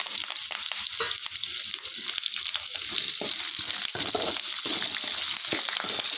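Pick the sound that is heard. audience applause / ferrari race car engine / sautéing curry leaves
sautéing curry leaves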